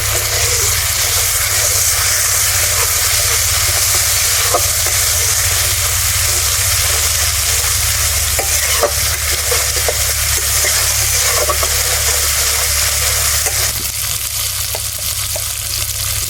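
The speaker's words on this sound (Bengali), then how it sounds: "এবারে অল্প একটু জল দিয়ে মশলাটা আবার কষিয়ে নেব।" Spice paste fries with a splash of water for a fish curry, giving a dense, continuous loud sizzle and bubbling close up, with occasional stirring clicks and no voices.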